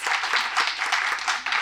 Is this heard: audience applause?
yes